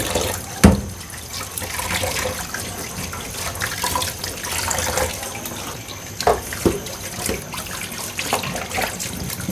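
Tap water runs steadily into a sink while something is rinsed and swished by hand. A louder knock comes near the start, and splashes and clatter follow later.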